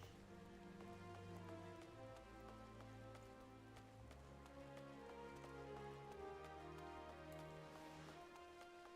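Rain falls in Final Fantasy XIV, a steady soft patter that continues for the whole stretch alongside tonal game music, fairly quiet with no talk.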